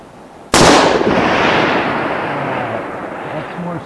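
A single .308 Winchester rifle shot fired on a long-range shooting range, a sharp loud crack followed by a long rolling echo that slowly fades.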